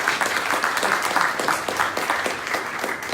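An audience at a 1 Million Cups event in Daytona Beach gives a round of applause to welcome a speaker, a lively, dense burst of many people clapping close by.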